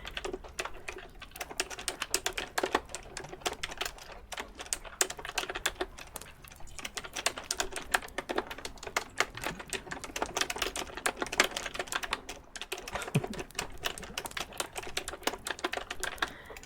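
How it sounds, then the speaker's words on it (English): Continuous fast typing on a computer keyboard, dense irregular key clicks heard close up and alone, with no talking. "I mean, it's typing, not tapping."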